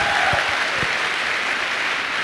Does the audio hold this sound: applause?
yes